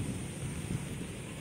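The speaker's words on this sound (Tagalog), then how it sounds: "Ayan, napot na tayo ng ulan." Light drizzle falls outdoors over a fish pond, a steady soft hiss of rain with low rumbling, faint and continuous, with no voices.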